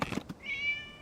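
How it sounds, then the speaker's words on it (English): A cat in the video game Genshin Impact lets out a single short, high meow, clear and close, just after a brief scuffle of noise. "it's just a cat."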